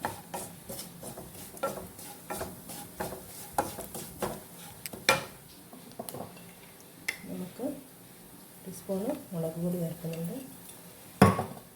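Coconut roasts in coconut oil in a pan, with a spatula scraping and clinking against the metal in an irregular rhythm and a soft sizzle underneath, while someone talks in the background.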